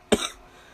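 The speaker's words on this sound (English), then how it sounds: "this cough is horrible" A single short, harsh cough close to the microphone, alone, fading quickly into quiet room noise.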